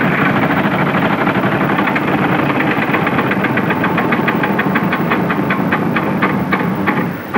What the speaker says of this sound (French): 6000 francs pour Pierre en un tour de roue